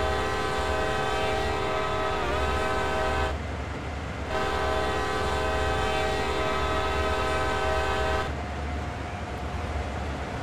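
A freight train passes in the Train Sim World game on a CSX heavy haul route. Its loud, sustained horn blasts hold steady across several seconds with one short break, over continuous low rumbling.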